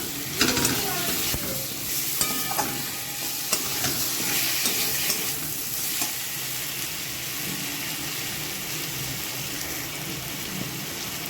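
Cauliflower dish ingredients fried with salt in a pan, a steady loud sizzle throughout with a few scraping stirs near the start, close up.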